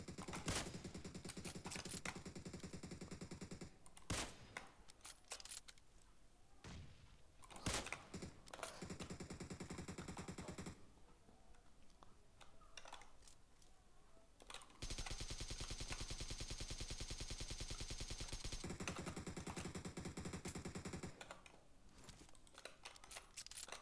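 Gunfire in the battle royale game PUBG Mobile, with bursts of shots coming in clusters that break off and then return. One long stretch of steady rapid fire stands out, and no one speaks.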